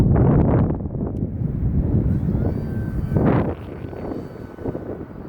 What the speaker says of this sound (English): I don't like it when the wind is coming from this direction as much